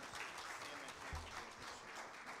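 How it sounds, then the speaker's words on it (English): Church congregation claps after a prayer blessing children: a short burst of steady, fairly quiet applause with a brief low thump midway. "Round of applause"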